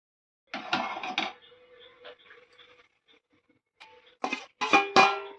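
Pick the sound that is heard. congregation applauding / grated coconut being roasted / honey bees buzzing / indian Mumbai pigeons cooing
grated coconut being roasted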